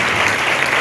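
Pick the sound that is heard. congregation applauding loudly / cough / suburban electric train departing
congregation applauding loudly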